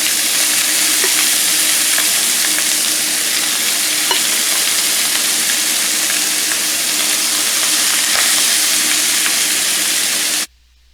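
Fresh corn cooks in a skillet, giving a steady loud sizzle and fry with occasional small pops and crackles that run unbroken for about ten seconds before cutting off abruptly.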